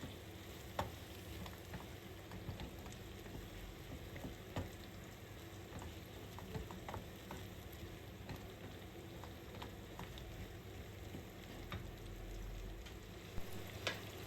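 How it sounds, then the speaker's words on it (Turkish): Ground beef frying in a pan with red peppers, a steady low sizzle with occasional crackles and stirring scrapes throughout, fairly quiet, with no talking. "300 grama yakın kıymam vardı onu ekledim. Onu da kavurmaya başladım."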